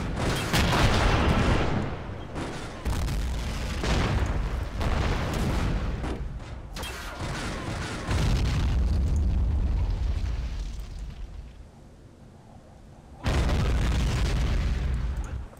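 Heavy ATGM missile strike explosions from an Iraq War 2003 video game mod, a run of loud booming blasts and rumbling bursts, one after another across the whole stretch, close and dense with no talk.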